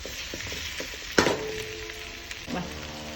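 Fish pieces frying in a pan for Andhra fish pulusu, a steady close sizzle with a sharp clatter of a utensil partway through and a second smaller stir near the end.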